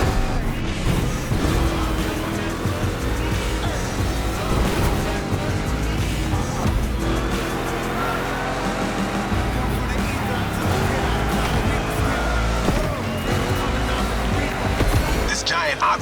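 A monster-truck-sized Mustang GT races in The Crew Motorfest, its engine roar steady and loud, blended with tire noise and a pounding hip-hop beat throughout, while a voice talks over it.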